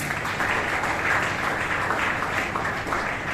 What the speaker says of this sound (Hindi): उस व्यक्ति के लिए आपको जोरदार तालियां बजानी चाहिए